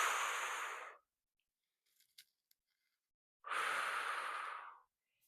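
Two long, steady breaths during a low-intensity cardiac rehab arm exercise, an inhalation through the nose and then an exhalation, close and clear and each lasting about a second. A few faint clicks fall in the quiet gap between them.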